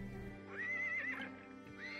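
Horses whinny in a pasture in the Settlement Survival video game: one clear, rising neigh rings out close and loud, with a second shorter call and a hint of hoof clops around it.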